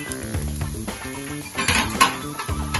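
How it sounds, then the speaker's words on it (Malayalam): A spoon scrapes and clinks against a pan as masala for crab roast with Kashmiri chili powder is stirred, with a soft sizzle beneath irregular metallic knocks close by. "ശരിക്കും ഇതൊന്ന് നമുക്ക് ഇളക്കി കൊടുക്കാം."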